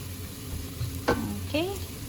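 Onions browning in a frying pan while being stirred, giving a low steady sizzle with two sharp spoon scrapes against the pan and a short squeaky scrape after the second.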